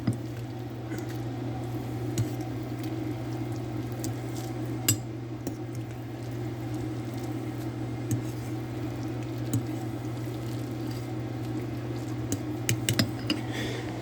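Microwave-cooked ramen is stirred around in a bowl, with soft wet squishing and light utensil clinks against the bowl over a steady low hum, close and fairly quiet.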